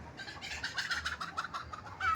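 Golden teddy pigeons coo and flutter nearby in a quick, pulsing series of throaty calls, with no talking.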